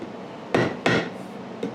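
Three sharp hammer strikes set frets into a Telecaster guitar neck, working from the outer edges inward; two close together, then a lighter third after a pause, near and alone.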